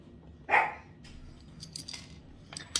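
A dog named Tommy gives a single sharp bark nearby, followed by faint clinks and small clattering sounds in a quiet room, with no speech.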